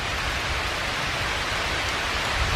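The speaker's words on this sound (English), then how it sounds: "I hear the rain hitting the leaves pretty hard." Heavy rain pours steadily onto leaves in a wooded park on a dark morning, a dense, continuous hiss with no talk.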